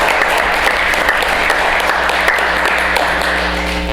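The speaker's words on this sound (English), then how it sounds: "They really do deserve a big round of applause." Steady applause from a room of attendees at a village board workshop meeting, sustained and even for several seconds with no clear talk over it.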